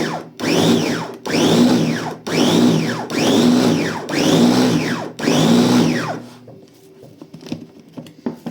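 An electric blender that sparks inside runs in five repeated bursts, each a loud whirring whine that rises and falls, while making an apple brownie, followed by quieter clatter as it stops.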